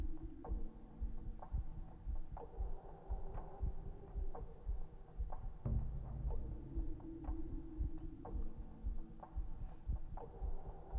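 Slow, regular heartbeat-like thumps pulse through the game music of Myst III: Exile, low and steady over a droning hum, recurring about twice a second.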